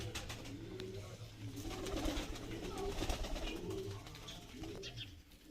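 Madrasi pigeons coo and flutter nearby as they are released amid a busy outdoor background, with occasional faint voices and rustling throughout.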